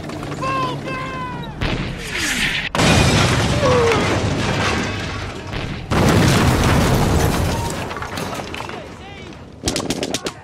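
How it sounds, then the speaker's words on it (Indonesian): A German Tiger tank's shell hits an Allied tank convoy: loud explosions and bursts of heavy gunfire boom in succession, with rumbling blasts and crackling debris filling a chaotic battlefield soundscape. "tiger tank Jerman langsung mengarahkan bidikannya tepat mengenai konvoi tank sekutu"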